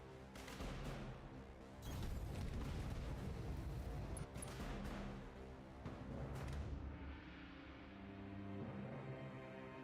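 Missile barrages explode in the BattleTech video game, a dense rumbling series of booms and blasts that swell loudly for several seconds, then thin into a lower rolling tail.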